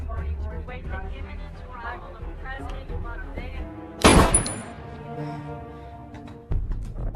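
Gunfire in an action film, a sharp loud burst that rings out and decays, then a second heavy impact a couple of seconds later, under dramatic music and voices.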